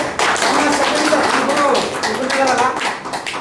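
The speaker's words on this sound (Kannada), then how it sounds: "ನಾವು ಅವ್ರಿಗೆ ಜೋರದ ಚಪ್ಪಾಳೆ ಕೊಡ್ಸೋಣ" An audience gives loud applause for the people who brought the speaker to the company event, a dense, close burst of clapping that swells and then thins out over a few seconds.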